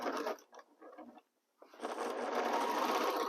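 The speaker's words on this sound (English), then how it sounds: "So let's sew. I'm going to start joining the first two rows." A sewing machine stitches quilt rows together, whirring steadily up close in a rapid mechanical rhythm. It stops briefly, then starts again and runs on continuously.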